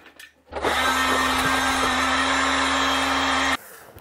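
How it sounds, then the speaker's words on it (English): A heat gun blows hot air onto a homemade logging sleigh ski under repair, a steady loud whooshing roar with a constant whine that starts abruptly, holds for about three seconds, then cuts off. "I do have a heat gun here somewhere."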